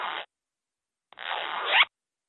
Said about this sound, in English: Z, z, zipper.